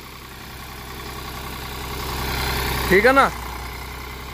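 An Eicher tractor engine runs at a steady low chug throughout, with someone briefly speaking in Hindi near the end.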